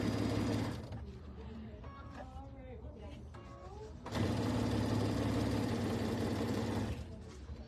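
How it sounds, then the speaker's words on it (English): Sewing machine stitching a table runner: two bursts of fast, steady motor whirring and needle chatter, close and loud, with a voice speaking in the quieter gap between them. "I'm going to sew this"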